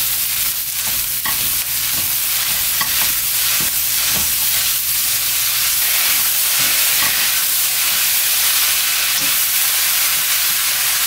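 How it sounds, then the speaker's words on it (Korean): Cabbage and dried shredded squid stir-fried in a pan, a steady loud sizzle with repeated scraping and clattering of the spatula stirring throughout, no talking. "2분만 볶아주면 될 것 같아요. 이렇게 볶아주고요."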